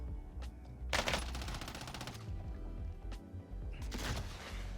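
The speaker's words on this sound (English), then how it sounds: "So he's being shot from the left." Gunfire in a Warzone solo battle royale match: rapid automatic bursts crackle in two main volleys with single sharp shots between, moderately distant and fairly quiet over a low background rumble.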